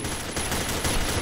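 Dense, rapid bursts of gunfire in the shooter game Combat Arms rattle continuously with no pauses, a sustained barrage of shots at steady loudness.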